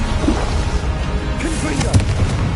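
Incendio fire spell cast in Hogwarts Legacy, a rumbling, roaring whoosh with low thuds beneath, continuous and loud, with a voice speaking briefly over it.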